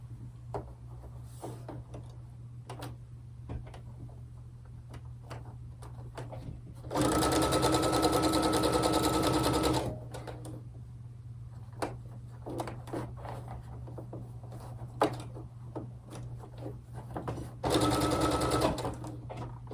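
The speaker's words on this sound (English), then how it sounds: "we'll just start sewing those together" A sewing machine stitches quilt borders, running in two loud, steady whirring bursts against a constant low hum, with light clicks and handling noises between runs.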